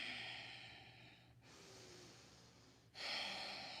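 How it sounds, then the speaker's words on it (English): Breathing through the nose during a gentle stretching workout: a long, steady inhale-like rush followed by a louder exhale, close and soft, with no talk. "Just go into your own glute, breathing through the nose."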